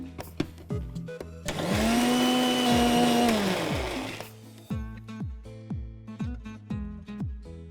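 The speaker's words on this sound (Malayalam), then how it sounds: "നമ്മുടെ ബദാം അരയ്ക്കണം" An electric mixer grinds almonds in a loud, sustained whirring burst lasting a few seconds, bracketed by short sharp clicks and knocks from the machine before and after.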